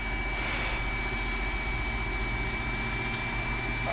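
A Piper PA28 light aircraft engine at reduced power, about 1700 rpm, gives a steady, loud droning hum with a low rumble that stays constant throughout, heard from inside the cabin without speech.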